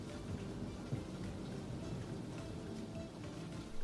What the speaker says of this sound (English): It is raining quite heavily.